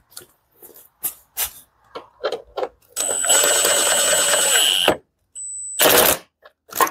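A power tool drives the headlight bolts on a 2014 Infiniti QX60, a few short ticks and clicks, then a loud, steady two-second whir, followed by a briefer burst and another short whirring spin, close and with no talking.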